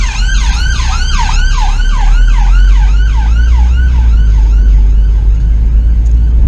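A wailing ambulance siren sweeps up and down rapidly and repeatedly, loud and close, over a low rumble of traffic.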